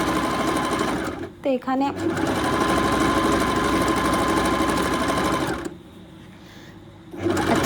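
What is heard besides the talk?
sewing machine stitching a pillow cover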